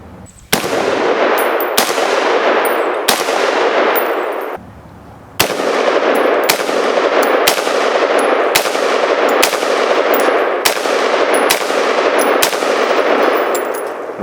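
AR rifles in .223 and .308 fire about a dozen loud, evenly spaced shots at a cinder block outdoors, each crack ringing out with a metallic ding and a long decaying echo.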